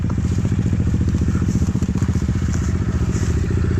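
A Kayo TSD 110 enduro motorcycle rides off-road at low speed, its small single-cylinder engine chugging in a loud, steady, rapid pulse close to the microphone.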